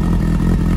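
A customized Honda CB 600 Hornet cafe racer, started only moments before, gives a short, steady burst of dense, rumbling engine noise up close, with no voices over it.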